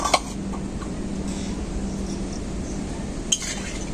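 A metal lid clinks sharply against a pot of boiled potatoes and peas, then a second clink follows a few seconds later over a low, steady background hum.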